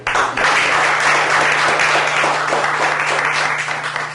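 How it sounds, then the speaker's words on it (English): A village council audience gives loud, sustained applause to honor a grant helper, dense clapping that rises at once and carries evenly for several seconds. "So we applaud you."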